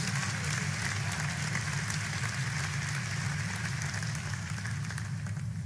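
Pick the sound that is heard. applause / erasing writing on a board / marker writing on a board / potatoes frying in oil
applause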